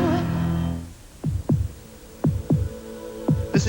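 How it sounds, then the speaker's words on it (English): A deep, booming heartbeat in a 1986 Chevy commercial thumps in three paired beats, following a brief musical tone at the start. "Listen to the heartbeat."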